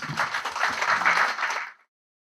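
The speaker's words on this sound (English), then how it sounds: "they deserve a round of applause" A short burst of crowd applause greets members of the House at a Lagos State government event, dense clapping that holds steady for under two seconds and then cuts off abruptly.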